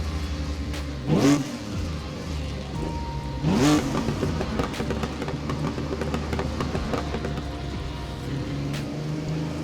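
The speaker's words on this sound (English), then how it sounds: "Sounds good though. Nice bit of backfire." A 1959 Mk2 Jaguar revving in Assetto Corsa, its engine rising sharply in two distinct revs over a constant idle rumble, followed by a long stretch of steady, close engine drone with faint pops.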